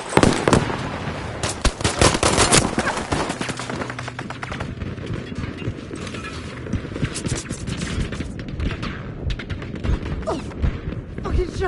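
Gunshots in a PS4 video game fire in sharp, irregular bursts, loud and dense at first, then thinning to scattered cracks, with voices talking in the background.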